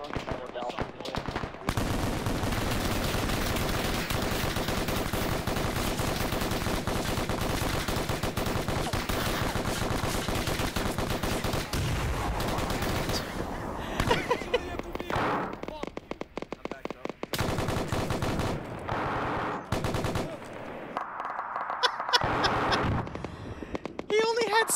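Sustained automatic gunfire in a modern-day military video game during an airfield seizure, dense continuous bursts running loud for most of the stretch, then breaking into intermittent shots with players talking over the action.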